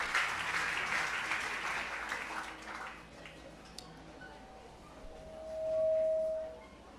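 A congregation applauds in a French-speaking church, a burst of clapping loud at first that thins and fades over about three seconds, followed by quieter room noise and a brief faint tone near the end.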